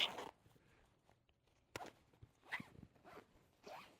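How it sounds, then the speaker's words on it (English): A carry-on bag's zipper is pulled in a few short strokes, quiet and close, with soft rustling between the pulls. "And then it just zippers up real easy."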